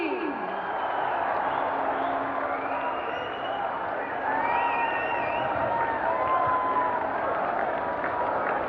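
Crowd applause and cheering at a public event welcoming Prime Minister Narendra Modi, a dense, sustained roar of clapping and voices filling the whole stretch at steady loudness.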